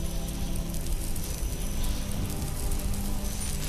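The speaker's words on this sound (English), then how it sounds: "but the rain is getting worse." Steady rain falls in Skyrim, a dense, even hiss of drops pattering on surfaces that carries on without a break, close and unbroken, with no voices.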